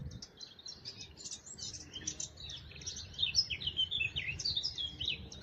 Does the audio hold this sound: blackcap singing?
yes